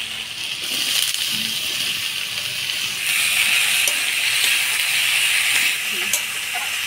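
Potatoes and eggplant frying in hot oil while being stirred, a steady loud sizzle and hiss throughout with faint scraping and clinks underneath.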